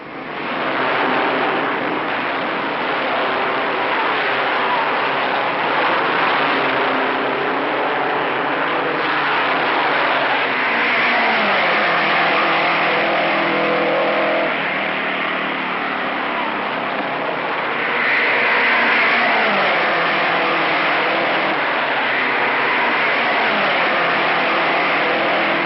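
Race cars roaring off at the start of the 1956 Indianapolis 500, a dense, steady engine rush heard through old, muffled broadcast-quality sound with no talking.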